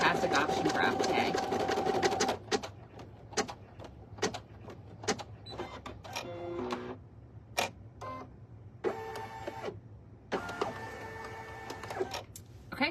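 A single-needle embroidery machine stitches onto a premade item, running in a fast mechanical buzz that stops and restarts in short bursts, with clicks and quiet pauses between runs.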